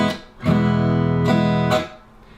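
Strummed acoustic guitar in a blues rhythm pattern, two full ringing chord strokes followed by a quick, nearly simultaneous muted downstroke, played close and clear.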